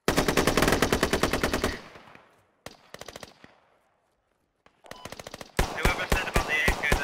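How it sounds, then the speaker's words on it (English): Rapid automatic AK rifle fire in a video game, in loud sustained bursts, with short pauses and echoing tails between strings of shots. "That's not what an AK sounds like at all."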